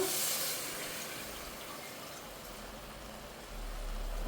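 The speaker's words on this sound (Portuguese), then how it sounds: "Vou adicionar a água." Water pours into a pot of seared pork leg on a stove, a steady broadband rush and hiss that swells again near the end, close and fairly loud, with no talk.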